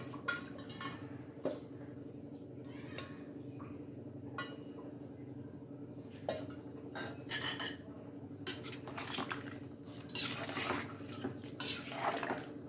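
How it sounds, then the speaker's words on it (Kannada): A spoon scrapes and clinks steadily against a pan while stirring capsicum rice, with repeated metallic taps and scrapes over a low steady background hum. "ಈಗ ಒಂದ್ಸತಿ ಹಿಂಗೆ ಮಿಕ್ಸ್ ಮಾಡಿಕೊಡಿ."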